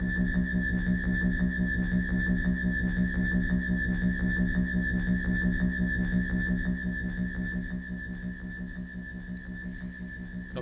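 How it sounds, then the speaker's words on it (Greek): A steady, buzzing machine-like hum in a video game drones on with a pulsing vibration, holding constant before fading slightly toward the end. "όταν πας μπροστά από αυτό ακούγεται ένας βόμβος σαν μηχανή"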